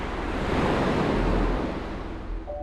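Ocean surf rolls in as a broad, loud wash of breaking waves, swelling and then slowly fading over a few seconds, with wind rumbling against the microphone.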